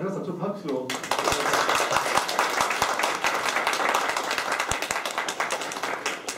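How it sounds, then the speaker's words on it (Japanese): A panel audience at the close of a fintech entrepreneurship seminar bursts into steady, dense applause and clapping that follows a brief spoken line and carries on to the end. "じゃあ皆さんちょっと拍手を。"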